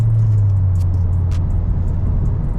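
A VW Golf 7R settling to a quiet steady hum after its exhaust valves close in comfort mode, a low constant engine drone heard from inside the car with a couple of faint clicks.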